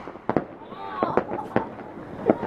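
New Year fireworks exploding in Khachmaz, heard as several sharp bangs at close to middle distance with a whistling rocket trail between them, while people talk nearby.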